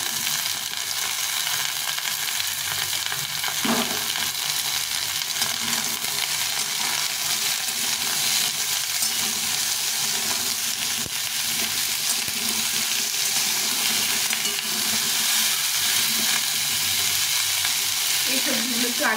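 Pumpkin pieces fry in an oil-filled pan, giving a steady, close, even sizzle that runs the whole time with a few brief stirring clinks and no talking.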